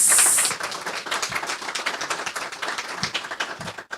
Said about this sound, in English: can I ask you another round of applause for Amy